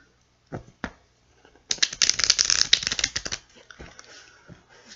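A deck of tarot cards is riffled and shuffled close by, with a couple of soft taps before one dense, crisp burst of flapping cards.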